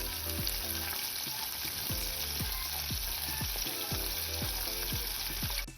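Chicken fries in hot oil for crispy fried chicken, a steady close-up sizzle running throughout, with repeated soft clinks and stirring scrapes against the pan.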